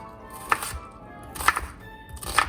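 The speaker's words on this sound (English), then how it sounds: "now I'm just gonna chop them up" Knife chopping vegetables into chunky pieces for a creamy Tuscan chicken soup, three distinct cutting strokes about a second apart, close and fairly crisp with no talk.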